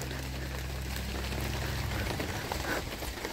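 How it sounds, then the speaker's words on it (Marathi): Monsoon rain falling steadily around a rock-cut water cistern at Sarasgad fort in Maharashtra, a constant dense hiss and patter of drops, moderately loud and unbroken, with a low rumble fading out partway through. "पावसाचा तुम्हाला आवाज येतच असेल. टप टप टप टप टप टप चालू आहे"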